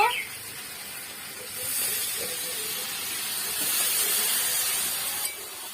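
Water is poured into a pan of sautéed home-style chicken curry, raising a loud, steady sizzling hiss that swells and holds for several seconds before cutting off.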